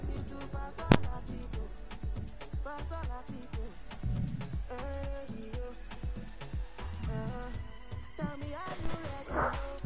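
A pet dog barks and yips in short irregular bursts, near and fairly sharp, with whimpering tones and some voices in the background.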